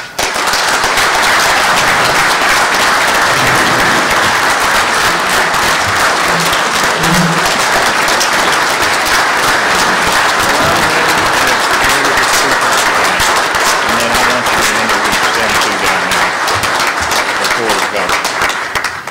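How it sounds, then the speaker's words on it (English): A large convention audience claps loudly and continuously for about nineteen seconds, a dense wall of applause with no break. "they all deserve a huge round of applause"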